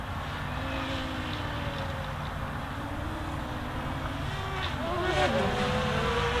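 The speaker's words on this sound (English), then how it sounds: "this is a quick little drone" A Hubsan Zino 2 drone flying fast in sport mode across a park gives a steady, continuous whine that holds throughout and swells slightly louder near the end, with faint wind noise and no talk.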